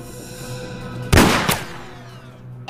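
Gunfire in an action film: a sudden loud burst of shots, with a second crack about a third of a second later, rising over a low steady background hum and then fading away.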